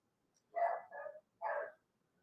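A pet dog barks three times in quick succession, two short barks and then a third after a brief pause, fairly close in an otherwise quiet room.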